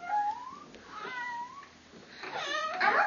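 A young boy imitates a cat with his voice, giving a few rising, meow-like whines close up, then a louder, more excited mewling burst at the end.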